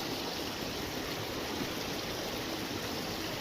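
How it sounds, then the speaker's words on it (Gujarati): Rainwater runs across farm fields after a heavy downpour, a steady, dense rushing wash of flowing water that continues unbroken and evenly loud throughout, with no voices. "જેથી ખેતરોમાં પાણી વહેતા થયા છે"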